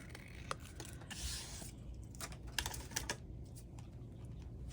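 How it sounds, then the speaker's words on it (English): Scissors snip a circle out of paper scraps for a paper hellebore flower craft, giving a series of short, crisp cutting clicks at close range against quiet room noise. "I am going to cut out a circle that is large enough"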